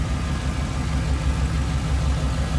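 A 1985 Chevrolet C10 Silverado with a swapped-in 5.3 V8 idling, a steady, smooth low rumble held close and even throughout, with no voices.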